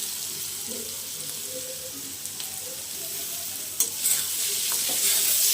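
Vegetables with brinjal sautéing in a pan for a kachki fish curry, a steady close sizzle hissing throughout, with a brief louder burst near the end as tomatoes go in, no talking.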